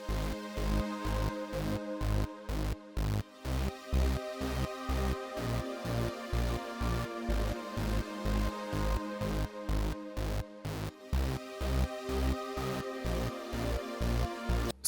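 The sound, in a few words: synth pad chords in FL Studio beat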